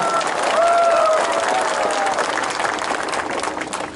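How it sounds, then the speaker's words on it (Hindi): A crowd at a political rally in Tripura applauds loudly and steadily for about four seconds. A few faint whistles and cheers rise above the clapping before it eases slightly. "आप अपने आप को भी थोड़ा सा ताली देकर अपने आप को भी क्रेडिट लीजिए"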